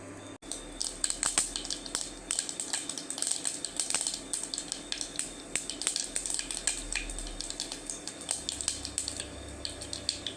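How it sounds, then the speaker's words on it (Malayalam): Mustard seeds splutter in hot coconut oil in a pan on the stove, giving a dense series of sharp crackles and pops at close range over a low background hum; no talking. "പാൻ അടുപ്പത്ത് വെച്ചിട്ട് വെളിച്ചെണ്ണ ഒഴിച്ച് കടുക് പൊട്ടിക്കുക"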